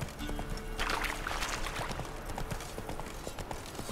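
Roach, a horse in the Witcher 3 video game, gallops with steady rhythmic hoofbeats under a constant ambient bed, moderately loud and close throughout, with no talk.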